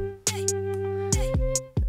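Hip hop beat built from four layered sequences on a 1010 Music Blackbox sampler, with a sustained melodic pad over punchy kicks and crisp hi-hat hits in a slow groove.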